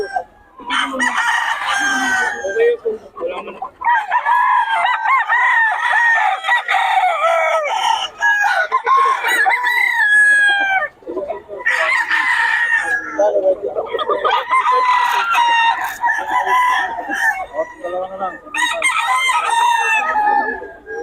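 Young stag roosters crow repeatedly at a bustling Philippine market in Bocaue, with loud, close cock-a-doodle-doo calls overlapping one after another, mixed with clucking and people talking in the background.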